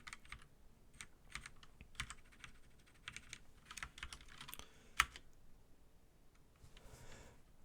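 Typing on a computer keyboard while building a stock portfolio tracker spreadsheet, quiet close clicks in quick irregular bursts with short pauses and one sharper keystroke.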